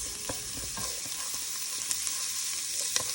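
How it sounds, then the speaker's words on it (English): Roughly five cloves of pressed garlic fry with onion in a pan for pasta sauce, a steady close sizzle broken by light clicks and scrapes of stirring. "we're gonna go ahead and add in our 5 cloves, roughly 5 cloves of garlic"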